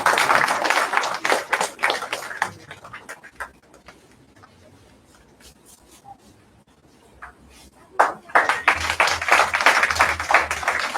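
An audience claps to welcome guests at an Indian knowledge-tradition lecture event, scattered rhythmic applause that thins to a few claps in the middle before swelling again, fairly close and moderately loud.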